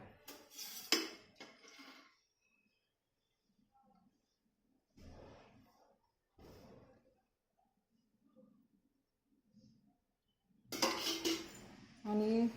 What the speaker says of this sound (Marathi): ही आता मी तवा ठेवते तव्यावर